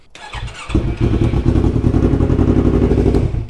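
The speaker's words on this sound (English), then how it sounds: "I'm going to start up the bike" A Yamaha MT-03 motorcycle engine cranks briefly, then catches and settles into a steady, loud, rumbling idle nearby, with no voices.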